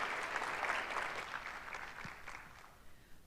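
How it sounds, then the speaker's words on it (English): Audience applause at a campus sexual assault summit, a dense, steady wash of many hands clapping that fills the room and slowly thins toward the end, with no talk over it. "give her a big round of applause"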